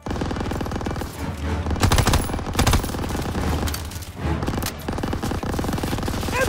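Machine gun fire in the Call of Duty: World War II video game, dense rapid bursts rattling almost nonstop with a few heavier shots mixed in, loud and close, with no speech.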